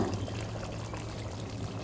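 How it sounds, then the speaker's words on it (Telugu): Hot water pours steadily into a pan of spicy chicken curry for a couple of seconds, a continuous close splashing rush with no voices. "ఇప్పుడు వేడి నీళ్ళు పోసుకోవాలి కొద్దిగా"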